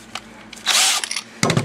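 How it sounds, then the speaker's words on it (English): Air-operated power drill with a toothed chuck collar, whirring at high pitch in short bursts, a brief rev followed by a second sharp start, close and loud with no talking. "that one would be like this air operated tool here"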